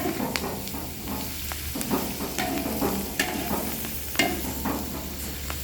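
Beef frying with turmeric in a pan, a steady sizzle broken by repeated scraping stirs of a spatula against the pan, close up and without talking.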